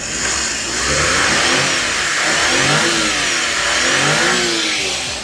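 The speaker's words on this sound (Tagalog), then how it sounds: "Napakaganda ng andar ng ating makina" Engine of a Suzuki DA64V mini van running under the open hood, a steady mid-pitched hum with mild rises in revs, close and loud with no talk.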